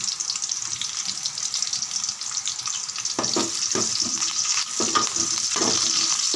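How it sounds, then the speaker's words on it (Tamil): Mustard seeds, dal, fenugreek and vadagam crackle and sizzle in hot oil during tempering. A steady frying hiss continues throughout, with sharper popping and stirring sounds toward the end. "லாஸ்ட்டில் வடகம் போட்டு தாளிச்சிடலாம்"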